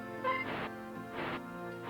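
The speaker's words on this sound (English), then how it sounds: "It's flapping its wings, basically." Wing-flapping sound effect from the video game RPG Maker 1: three soft, rhythmic whooshing flaps, evenly spaced, rise over a steady tonal background with no voices.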